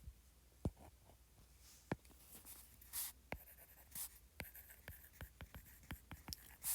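A pen scratches on paper close by, with short irregular strokes and taps as letters are written, faint and quiet with no talking.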